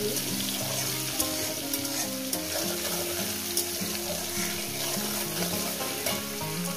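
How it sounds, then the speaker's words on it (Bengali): Chopped onions fry in a pan for an egg curry, giving a steady, close sizzle throughout with faint stirring scrapes and no one speaking. "দিয়ে দেবো এখানে আপনার পেঁয়াজ কুচি"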